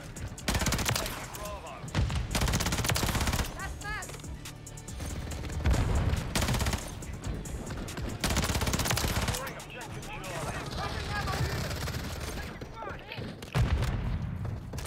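Swarm killstreak drones firing in Call of Duty Modern Warfare 3 multiplayer, a dense barrage of rapid gunfire and booming impacts in loud bursts across the whole stretch, with a player talking over parts of it.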